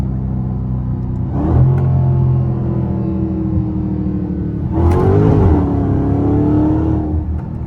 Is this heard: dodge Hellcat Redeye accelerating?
yes